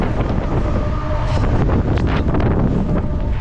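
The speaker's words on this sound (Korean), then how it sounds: "이 코너를 돌 때마다 바람 때문에 미치겠네." Strong, continuous wind buffeting the microphone while cycling along a hilly Mediterranean coastal road in southern Türkiye during a typhoon-like rainstorm, a loud steady roar with gusty swells throughout.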